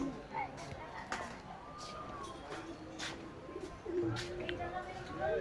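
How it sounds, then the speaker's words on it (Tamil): Pigeons cooing in a park at Tirupati, with soft repeated low coos and other bird calls under a person talking nearby. "புறா"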